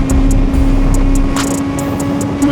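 A Kawasaki ZH2 motorcycle engine drones loud and steady on a group breakfast ride to Kaybiang Tunnel, holding a constant low roar with wind rush over it and no talking.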